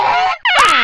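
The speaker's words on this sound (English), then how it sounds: "Great, you've upset the 6 geese a-laying." A short burst of loud goose honks, a couple of nasal calls close up, as a comic sound effect in the You Don't Know Jack 2011 quiz game.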